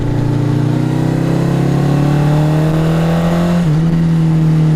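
A 1980 Honda CB900 motorcycle engine runs loud and close, its steady mid-pitched drone climbing gradually in pitch, then dipping briefly near the end before holding again.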